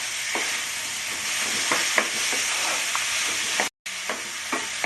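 Mashed potatoes and peas for Bengali-style pav bhaji fry in a pan with a steady close sizzle, while a utensil repeatedly presses and stirs the mash in soft knocks and scrapes. There is a brief dropout near the end.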